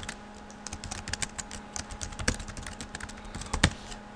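Keys on a computer keyboard are tapped in quick, irregular bursts while someone fills out a web form. The clicks are close and crisp, with a couple of louder keystrokes and no voices.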